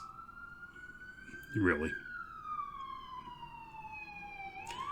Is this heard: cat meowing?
no